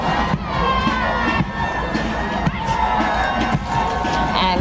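A large outdoor crowd cheers and shouts continuously at a national independence military parade, a dense and loud roar with children's shrieks and whoops, and a voice speaking faintly beneath it.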